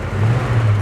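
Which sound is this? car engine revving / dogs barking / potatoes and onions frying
car engine revving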